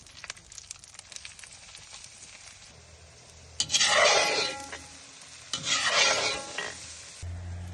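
Onions dropped into hot oil in a kazan fry with two loud surging sizzles over a background of light crackling and utensil clatter, close by.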